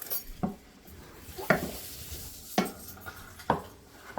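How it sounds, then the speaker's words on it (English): A spoon stirs mushroom Swiss pasta ingredients in a pot with cooked-down onions, giving four evenly spaced scraping knocks against the pot over a soft background hiss. "So go ahead and stir it all in."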